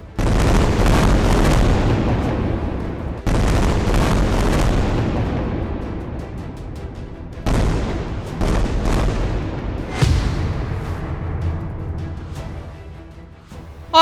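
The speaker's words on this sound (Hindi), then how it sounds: "उत्तरी गाजा से दक्षिणी गाजा तक सिर्फ और सिर्फ बम की आवाज सुनी जाने लगी" Heavy bomb blasts from Israeli airstrikes in Gaza, four loud booming impacts spaced a few seconds apart, each a sharp onset followed by a long rumbling decay, with no voices.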